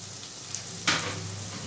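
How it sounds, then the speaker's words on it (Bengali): Onions and chopped capsicum fry in a pan for Maggi masala: a quiet background sizzle jumps into a brighter, louder hiss partway through as the capsicum hits the oil, then keeps sizzling steadily. "পেঁয়াজগুলো একটু ভাজা ভাজা হয়ে গেলে তারপর আমি দিয়ে দিচ্ছি ক্যাপসিকাম কুচি"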